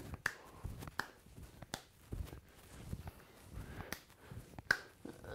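During a full-body workout, sharp, isolated hand claps sound close by at an irregular pace, each one a crisp snap over a quiet room, with soft movement noises between them.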